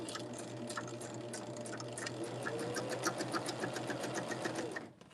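A sewing machine back stitches a quilt block in a quick, even run of needle strokes, close and moderately loud, before the motor stops abruptly at the end.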